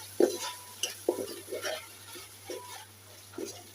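Spices being stirred into vegetable biryani in a pan, heard as soft intermittent scrapes and light sizzling, faint and close, with a low steady hum underneath.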